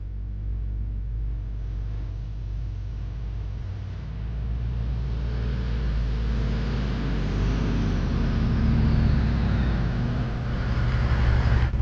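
A new car costing about $150,000 drives along, its engine a steady low rumble with road noise throughout, swelling slightly louder as it picks up speed.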